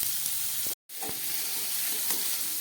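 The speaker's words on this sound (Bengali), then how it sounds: "একটু ভাজা হোক বিটটা।" Beetroot pieces fry in hot oil, a continuous close sizzle and hiss with a momentary drop to silence partway through before the crackling resumes.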